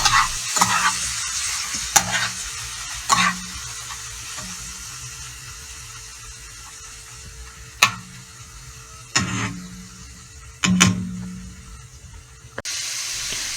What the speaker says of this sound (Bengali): 4 থেকে 5 মিনিট বা 7 মিনিটের মতো সুন্দর করে নাড়তে হবে, মানে যাতে সুন্দর করে মানে গোস্তটি লালচে রঙের হয়ে যায় অথবা একটু ভাজা ভাজি হয়ে যায়